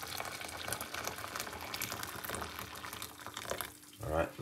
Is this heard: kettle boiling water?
yes